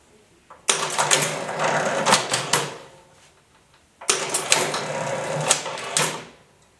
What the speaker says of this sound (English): The carriage of our model could be moved between keyboards easily.